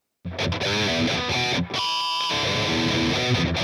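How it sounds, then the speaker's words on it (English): An electric guitar plays a short riff through a tube screamer overdrive pedal, warm tone with chords and single notes ringing with mild crunchy distortion, close and clear. "And that one sounds like this on a real tube screamer."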